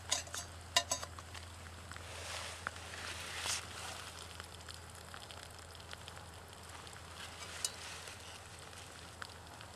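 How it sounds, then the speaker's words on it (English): Metal ash pan slid out of a wood-burning campstove, giving faint scraping and light metallic clinks, with a few sharper clanks near the start against a quiet background. "I'm going to pull out this ash pan and just let it cool down a little bit so that I can handle it."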